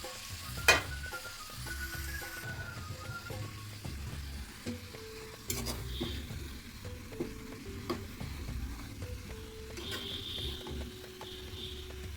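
Potato and kaindra vegetable being sautéed in a pan for a prawn dish, a quiet low sizzle under repeated clinks and scrapes of a spatula against the pan, with a few sharper knocks, close and steady.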